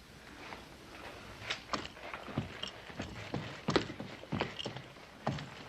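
A horse's hooves clip-clop at a stable in a Western town: a faint, uneven series of hollow knocks over a quiet background.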